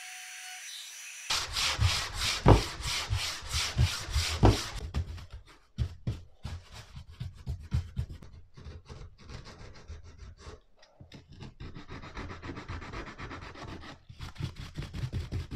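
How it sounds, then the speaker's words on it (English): A wooden boot crate is sanded by hand with close, steady back-and-forth rasping strokes, rhythmic and fairly loud, broken by a few short pauses before the scrubbing resumes. "And then what we'll do is we'll give it a sand"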